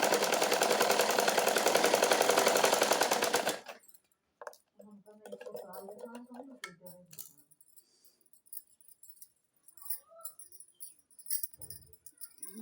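A sewing machine stitches a plain blouse, loud and close in one continuous run for about three and a half seconds before stopping, followed by quieter handling clicks and rustles of fabric.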